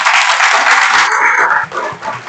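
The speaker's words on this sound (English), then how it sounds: "Let's give them a big round of applause." Audience applause at a city council meeting honoring youth on Youth Appreciation Day, dense steady clapping filling the room for a couple of seconds and thinning slightly toward the end.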